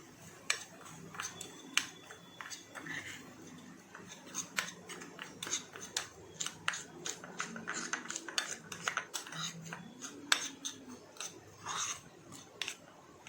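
Mad Angles snack chips being stirred with spice mix in a bowl, giving a dense run of crisp, scraping crunches and rattles at close range, with no talking.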